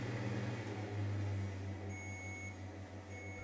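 A Mycook Touch kitchen robot set to 100 degrees at speed 2 cooks chopped onion in oil, giving a steady low motor hum with faint soft sizzling and a brief high electronic tone, constant and moderately quiet throughout.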